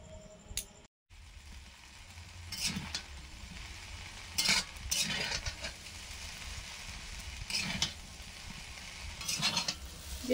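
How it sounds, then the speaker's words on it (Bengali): Egg chow mein frying and being stirred in a pan in a home kitchen at night, a soft continuous sizzle broken by several scraping stirs of a utensil against the pan. "কত সুন্দর চাউমিনটা ভাজা হচ্ছে"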